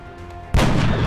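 A single loud, booming sniper rifle shot in the video game XCOM: Enemy Within cuts in abruptly after a moment of quiet background drone, its heavy blast sustaining to the end.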